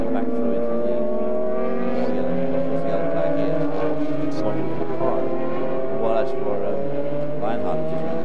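A sports prototype race car passes at Watkins Glen during a Grand-Am race, its engine note rising and then falling away over several seconds, loud and sustained, with commentators talking over it.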